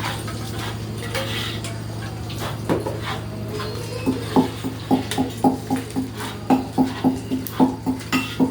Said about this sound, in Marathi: वेलची आपल्या 90sचे भांडी आहेत त्याच्याने चेचली जाते बघा.